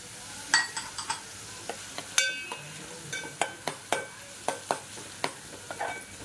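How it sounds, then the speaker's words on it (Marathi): Onion and tomato sautéing in oil in a pan for sev bhaji, a soft continuous sizzle punctuated by regular sharp taps of a spoon stirring against the pan, close and without speech. "कांदा आणि टोमॅटो चांगला तेलात परतून घ्यायचा"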